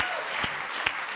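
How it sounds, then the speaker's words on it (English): A brief burst of audience applause at an Ignite talk night, steady clapping with a couple of sharper claps standing out. "Let's have a round of applause for that."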